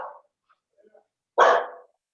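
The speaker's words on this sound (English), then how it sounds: "Sorry, I have a barking dog here." One loud, close dog bark bursts out after near silence, following a fainter yelp at the start and a few soft whimpers, with no talking.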